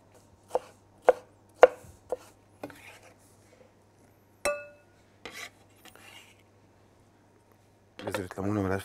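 A knife chops a cucumber on a board for a cucumber salad, giving four or five crisp, close, evenly spaced cuts, then a few softer scrapes and knocks, with someone speaking lightly around them.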